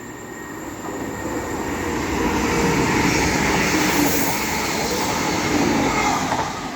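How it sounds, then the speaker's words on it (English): A pair of Transport for Wales Class 197 diesel units passing through Cheadle Hulme station on the West Coast Main Line, a rising then sustained rumble and rail noise with a faint high whine, no talk. "The next train to be coming down will be a pairing of Transport for Wales Class 197s running from"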